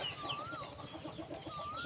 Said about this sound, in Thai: ไก่หนุ่มไก่เล็กมีหมดนะครับ นี่ ไก่สวยๆครับ